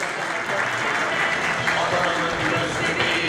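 Applause from an audience welcoming the mayor at a motorcycle safe-riding training event in Çukurova, a dense steady patter of clapping throughout with some crowd noise mixed in.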